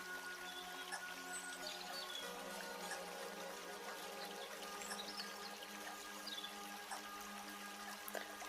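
Soft, continuous trickle and gurgle of a flowing stream, faint and steady throughout with small splashes, no voices.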